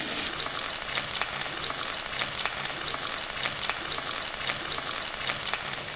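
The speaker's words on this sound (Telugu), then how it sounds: "ఉడికించి పెట్టుకున్న కాకరకాయ ముక్కల్ని ఇందులో వేసేసుకుందాం దీన్ని బాగా వేయించుకుందాం" Boiled bitter gourd pieces fry in hot oil with a dense, steady sizzle that stays close and even throughout, with no voices.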